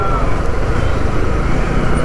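A loud, steady roar of road traffic on a highway between Thanjavur and Mettupalayam fills the air without a break.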